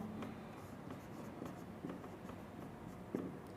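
Handwriting on a board comes through as faint, soft scratching strokes with a few sharper taps, close and quiet over low room noise.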